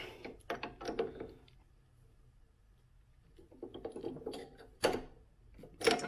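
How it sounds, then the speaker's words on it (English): A cheap masonry bit being tightened into a drill chuck before drilling hardened steel: a few soft, close ratcheting clicks and scrapes in two short bursts, separated by a quiet pause, with no talk. "So here's this cheap masonry bit. Chuck it up in here."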